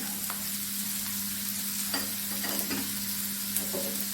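Chopped garlic, ginger and green chili sauté in hot oil in a pan with small onions, giving a steady close sizzle broken by a few soft stirring scrapes.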